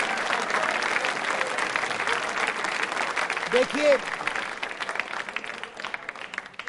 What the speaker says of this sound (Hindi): जोरदार तरीके से तालियां